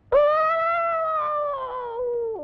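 A person yawns in a long, drawn-out, rising-then-falling tone that imitates a dog's howl. The single loud, close voice lasts about two seconds and trails off at the end.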